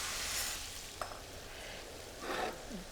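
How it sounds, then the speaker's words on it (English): Celery and corn sautéing in a soup pot, a quiet continuous sizzle with a couple of brief stirring scrapes. "add this to what I'm sauteing in the soup"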